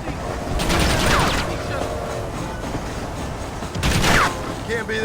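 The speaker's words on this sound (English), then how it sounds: "Stop shooting!" Gunfire in the video game Red Dead Redemption: two sharp, loud bursts of shots a few seconds apart over a busy backdrop, with voices shouting in between.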